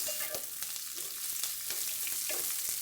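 Garlic and onion sauté in a hot pan for mung bean gisado, a steady bright sizzle with a few soft scrapes of stirring, close and continuous throughout.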